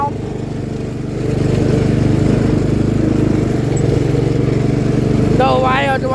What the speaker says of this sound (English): I think the wild one wants to ride the lawnmower